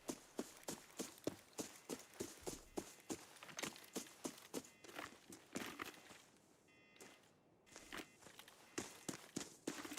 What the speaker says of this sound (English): I hear a footstep clearly, and then I just suddenly can't hear it at all